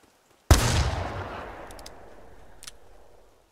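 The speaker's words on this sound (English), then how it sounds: "And now, of course, when I shoot, everybody's gonna run." One loud rifle shot at bighorn sheep in the hunting video game theHunter Classic, a sharp crack after a short silence with a long fading echo and faint clicks as it dies away.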